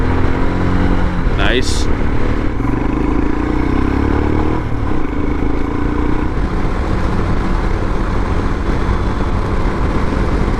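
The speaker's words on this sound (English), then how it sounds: "let's get it up through the rev range" A Royal Enfield Himalayan motorcycle engine with a newly replaced clutch revs up through its range, its steady, loud mechanical drone rising briefly in pitch, with a short spoken remark over it.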